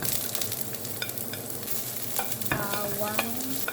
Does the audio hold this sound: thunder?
no